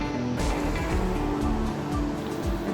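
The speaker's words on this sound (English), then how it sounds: "the water came out from the darkness from here and continues flowing down that direction" Water of the Whampao River flows and rushes steadily near a bridge among housing blocks, a dense, continuous wash of broadband noise that holds even and loud throughout, with no voices.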